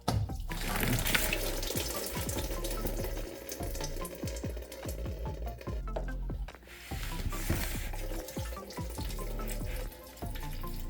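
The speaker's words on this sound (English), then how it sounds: "I'm pretty sure a lot of coolant is going to come out" Coolant gushes and splashes steadily from a hose pulled off the thermostat of a BMW 335i N54 engine, a continuous loud watery rush with small fluctuations throughout.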